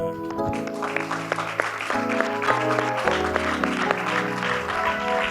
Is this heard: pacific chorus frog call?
no